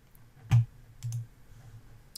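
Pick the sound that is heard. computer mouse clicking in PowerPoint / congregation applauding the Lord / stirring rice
computer mouse clicking in PowerPoint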